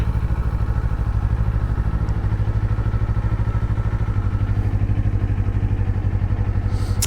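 A 2024 Kawasaki Eliminator 450 motorcycle engine runs with a steady, loud, close rhythmic thrum and a slight mechanical clatter, holding an even pace throughout.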